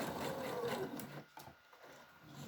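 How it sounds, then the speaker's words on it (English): A sewing machine runs while stitching quilt block pieces along a seam line, a soft continuous mechanical whir that stops briefly and resumes quietly, fairly faint and close with no talking. "feed the next one in along the seam line and just keep sewing along there"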